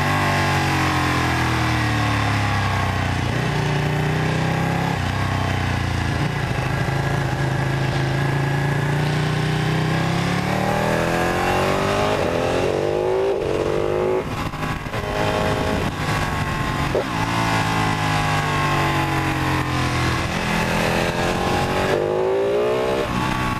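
A 2016 Ducati Monster 1200 R and a 1299 Panigale accelerate hard on the road, engines rising and falling through repeated gear changes in loud, continuous, close revving with no talk.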